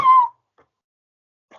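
A voice imitates a cat meow, one short clear rising-falling call at the start, followed by near silence with faint soft sounds.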